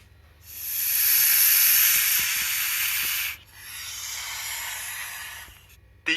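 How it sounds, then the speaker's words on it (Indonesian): A snake hisses in two long, breathy bursts, the first louder and lasting nearly three seconds, the second slightly softer, heard close and alone. "ular"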